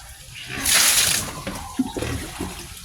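A loud gush of dirty water is poured out of a pig's drinking trough in one splashing burst, then fades into smaller drips and sloshes.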